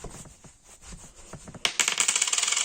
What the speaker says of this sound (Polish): Czyli bierzemy sobie monetę